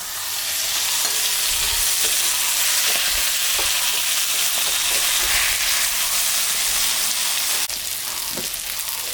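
Loud, continuous sizzling as moya fish chochchori fries in a pan, with scraping and stirring scattered through the hiss. Close and steady, with no voices.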